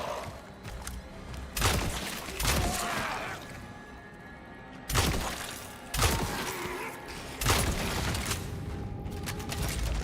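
Gunfire in the horror game Cronos: The New Dawn, several sharp loud shots spaced a second or two apart, each with a heavy thump and a ringing mechanical tail, with quieter ambience between.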